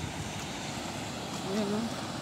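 Steady broadband rushing of a strong river current during a typhoon in Yuen Long fills the clip, a constant roar with a brief tonal sound near the end.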